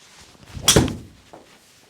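A Ping G430 3 wood strikes a golf ball with a single sharp, solid impact, followed by a brief fading whoosh as the ball flies off.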